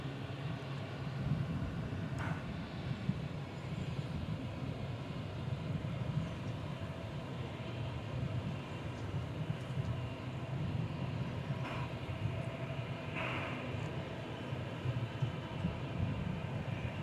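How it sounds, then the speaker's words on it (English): A 1997-built Boeing 757 airliner arriving at DFW Airport from Ontario, California, slightly buffeted on approach, gives a steady, broad, low jet roar that holds evenly throughout with no voices. "There you go, 20th century 757. Arriving from Ontario,"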